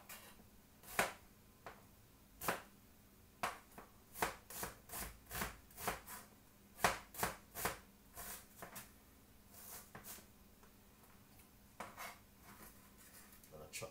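A knife chops a large white onion on a board for curry chicken, giving a steady run of crisp, close knocks that come in irregular clusters, with short pauses between them and no talk.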